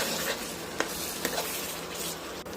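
Tamarind juice stirred into an Andhra-style stuffed eggplant curry as the oil rises, a close, steady bubbling sizzle with a few soft spoon knocks against the pot and no voices.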